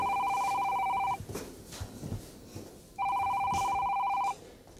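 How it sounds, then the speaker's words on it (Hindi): A telephone rings in two long electronic trills separated by a pause, loud and close, with faint background noise between rings. "तुम्हारा फोन आया।"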